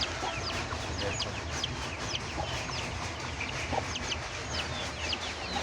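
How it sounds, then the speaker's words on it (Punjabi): A hen sitting on her eggs clucks steadily among other chickens, a continuous busy chorus of close and farther clucks and short calls over a constant farmyard background. "ਆਂਡੇ ਲਾਉਂਦੀ ਪਈ ਹੈ ਇਹ ਜਨਾਬ ਮੁਰਗੀ ਆ"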